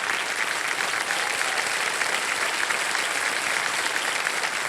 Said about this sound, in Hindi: कृष्णा जी के लिए जोरदार ताली बज जाए।